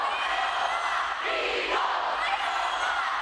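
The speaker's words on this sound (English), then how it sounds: "Students fill Chase Gymnasium as the Biola dance crew pumped up the crowd to get the night started." Students in a gymnasium at a Midnight Madness event cheer and yell as one dense, steady roar of crowd noise, loud and continuous throughout.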